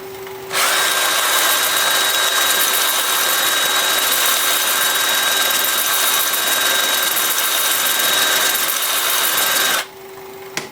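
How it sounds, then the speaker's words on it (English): A wood lathe spins in reverse while a 2-inch sanding disc works a piece of scrap apple wood, giving a loud, steady whirring hum with a constant tone that runs unbroken for about nine seconds before stopping. "So I will do this part with my 2-inch disc with the lathe spinning in reverse."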